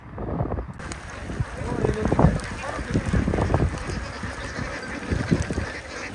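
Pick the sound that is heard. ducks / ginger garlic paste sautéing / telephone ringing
ducks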